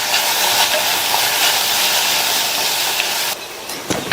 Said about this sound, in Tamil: இந்த வெங்காயத்தை கண்ணாடி பதம் வர வரையும் வதக்கிக்கங்க.